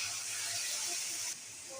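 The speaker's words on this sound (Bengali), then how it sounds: "অল্প একটু দুধ দিয়ে দিলাম," A small splash of milk hits a hot pan of coconut and jaggery and sends up a loud, steady steamy hiss that drops suddenly partway through.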